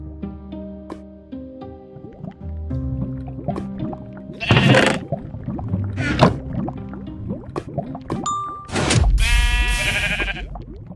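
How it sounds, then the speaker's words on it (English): Sheep in the Minecraft video game bleat in several short bursts amid a busy mix of background music and sounds, with a final loud, harsh burst near the end. "he killed a sheep, still deciding to take a life"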